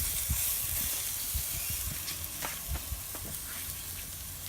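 A steak sizzles and hisses steadily on a hot griddle pan, a close, continuous frying crackle with a few low knocks and bumps from handling, and no voices.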